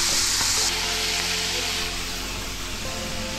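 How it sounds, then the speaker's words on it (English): Bacon sizzles loudly and steadily in an overcrowded pan, a dense, close, continuous hiss with no pauses or voices. "Chucking a bit of bacon in there for some added flavour. Overcrowded the pan a bit there."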